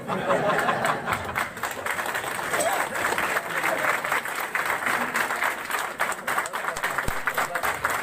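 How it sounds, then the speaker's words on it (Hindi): Clapping from an audience at an MLM business seminar sounds steadily throughout, with a voice talking and some laughter and chatter over it. "मत बजाओ तालियां यार, बोर हो गया।"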